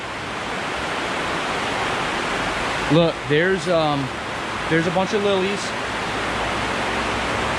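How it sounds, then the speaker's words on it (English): Heavy rain pours outside a greenhouse as a steady, loud hiss throughout. A person speaks briefly partway through over the downpour. "It is pouring."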